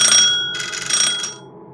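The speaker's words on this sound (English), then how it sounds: "Our heated discussions were interrupted by the doorbell" A doorbell rings in two bright electronic bursts separated by a short gap, then cuts off into quiet.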